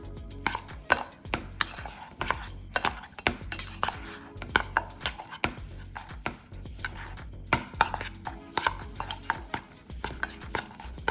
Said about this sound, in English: you're gonna add some red food coloring and then mix it together